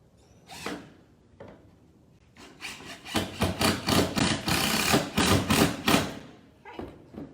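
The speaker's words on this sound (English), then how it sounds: "I'm using my drill with my Phillips bit." A power drill with a Phillips bit drives screws into wood for a trellis, giving a run of quick, close whirring and grinding bursts after a few scattered handling knocks, moderately quiet overall.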